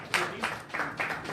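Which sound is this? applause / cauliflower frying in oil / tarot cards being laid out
applause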